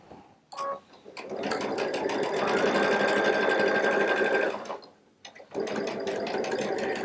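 A Baby Lock Solaris sewing machine piecing quilt fabric with a quarter-inch piecing foot runs in a steady, loud mechanical whir. It stops briefly, restarts, pauses again and then resumes stitching.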